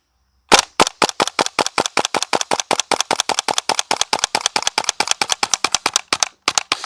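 A WE L85 gas blowback airsoft rifle fires a fast string of about thirty sharp cracking shots in a steady rhythm, close and loud, with a short gap near the end before one last shot.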